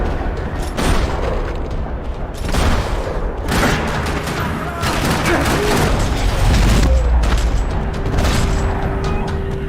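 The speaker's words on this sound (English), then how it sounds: "Another parking lot rattling with gunfire." Bursts of rapid gunfire crackle in a dense, noisy parking-lot battle in Max Payne 3, with booming impacts and constant background clatter throughout.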